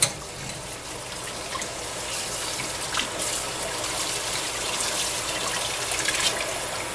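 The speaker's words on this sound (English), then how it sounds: "I'm gonna wash the meat. I'm washing and putting it in this bowl right here." Raw meat washed under a running kitchen tap, the water pouring steadily into a bowl with a constant close gush and occasional splashes, no speech.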